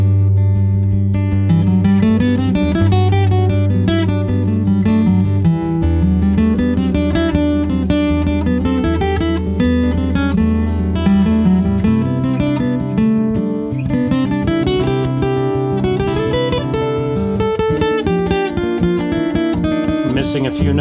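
An improvised guitar solo noodles freely through fast, loosely connected melodic runs, loud and continuous over a sustained backing, with no talking.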